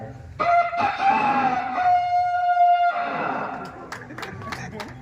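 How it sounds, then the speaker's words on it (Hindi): A rooster crows loudly once in a village, a long rising then held call, followed by faint clicks and rustling in the background. "गांव में जाइए, यहाँ सुबह होती मुर्गा भाग देता है।"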